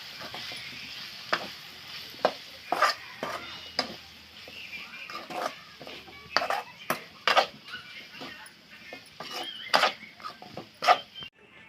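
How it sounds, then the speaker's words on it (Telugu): A spoon scrapes and clinks against a pan while spices are stirred into capsicum curry, with irregular sharp knocks over a faint sizzle, close up and fairly quiet. "ఇప్పుడైతే మొత్తం కలిసే విధంగా ఒకసారి మొత్తం కలిపేసుకుందామండి"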